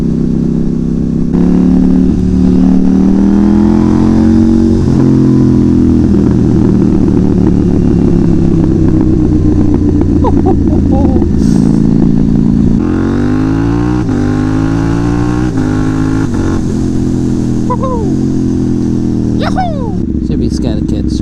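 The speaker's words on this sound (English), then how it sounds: "This bike is too loud." A KTM Duke 790 motorcycle engine revving loudly and droning close by, rising and falling in pitch through repeated throttle pulls, with someone talking over it.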